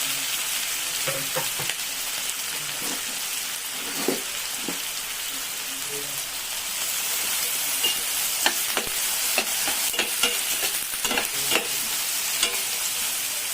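Finely chopped onions sauteing in a pan for a spicy egg curry, a loud continuous sizzle broken by repeated spatula stirs and scrapes, close up.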